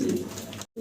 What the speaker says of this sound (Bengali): ব্ল্যাক কালারের চমৎকার এক জোড়া জার্মান শিল্ড কবুতর দেখাচ্ছি।